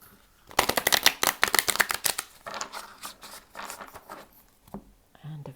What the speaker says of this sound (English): Okay, we'll do one last shuffle.